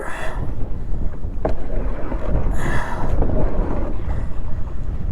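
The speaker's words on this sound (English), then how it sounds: "Oh man, it's windy out here." Steady wind rushes and buffets against the microphone outdoors, with gusts swelling now and then and no voices.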